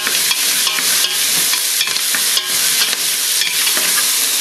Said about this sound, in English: So just give it a stir guys.